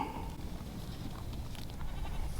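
Kiko goats bleat faintly in an outdoor pen, a short quiet call over low background noise.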